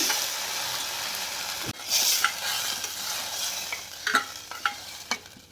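A sudden burst of sizzling as moong dal hits a hot pressure cooker on low heat, followed by steady frying hiss and a few light stirring scrapes.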